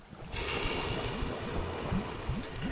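Liquid poured steadily, a close continuous trickling wash that starts abruptly and runs for a couple of seconds with faint splashy bubbling underneath.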